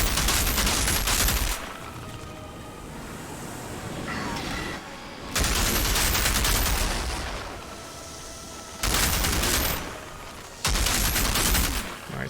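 Bursts of automatic gunfire from the Outriders shooter game, loud and sustained for a second or two each, separated by quieter stretches of battle ambience and lighter shots.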